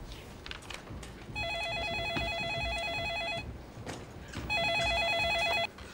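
A telephone rings at a property management office, two electronic trilling bursts of about two seconds each separated by a short gap, clear and close over a quiet room.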